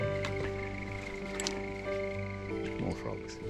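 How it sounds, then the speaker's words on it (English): Frogs croak steadily in a wet, boggy Tasmanian bush setting, a dense continuous chorus of overlapping calls close around, with a few louder individual croaks standing out. "More frogs."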